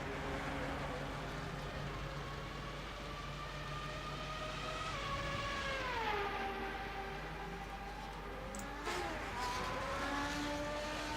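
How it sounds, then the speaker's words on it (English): A steady, high-pitched Peugeot racing engine in rFactor 2 drones on, its pitch dipping and shifting as it changes gear, heard at a distance. "I do like the sound of the Peugeot though."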